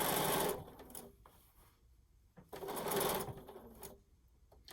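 A sewing machine stitches binding onto a quilt in two loud bursts of rapid needle chatter, separated by a quieter pause while the fabric is turned.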